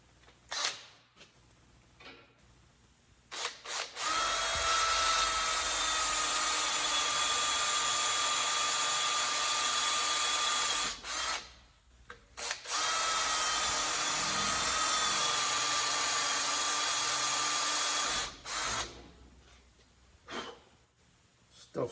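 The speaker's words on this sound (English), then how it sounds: "I'm gonna have to drill this out" A power drill bores out hardened epoxy in bursts: a loud, steady whine runs for about seven seconds, stops, then returns for roughly six more, with brief quiet gaps and handling noise around it.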